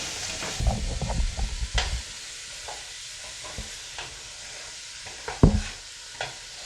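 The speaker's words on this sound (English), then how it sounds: "I'm just going to mix this up so it spreads in the oil properly" Soup ingredients being stirred in oil in a pot for a bean and barley soup, with soft scraping and sizzling strokes that are busier at the start, then sparse knocks and one sharper clatter near the end.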